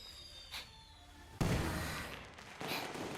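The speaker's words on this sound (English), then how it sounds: "Hey, fireworks! Nice!" Fireworks in the video game Limbus Company: a sudden loud burst followed by a sustained crackling, rumbling wash that swells again near the end, with no speech.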